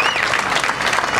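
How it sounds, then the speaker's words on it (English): Brief, loud round of applause from a crowd at a Saint Patrick's Day parade gathering in Brooklyn, dense and continuous clapping with no break. "So round of applause for those two people who have done great things for us in the past"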